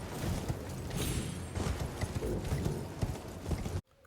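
Steady clip-clop of a galloping horse's hooves in the Elden Ring video game, loud and rhythmic for a few seconds before cutting off abruptly.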